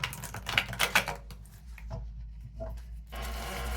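A tarot deck being shuffled, with quick crisp riffling bursts early on, then quieter shuffling and light rubbing near the end.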